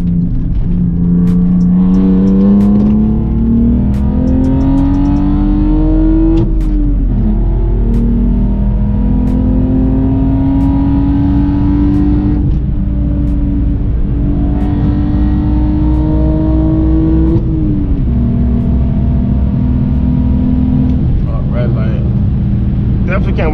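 A BMW E46 drift car's engine revs loudly and climbs through its gears, each rising pull cut by a shift before building again, over a constant close roar.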